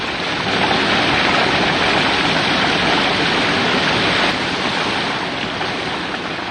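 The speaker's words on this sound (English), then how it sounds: "You're never away from the sound of rushing water." Continuous loud roar of rushing water, steady broadband noise without pauses, close and enveloping.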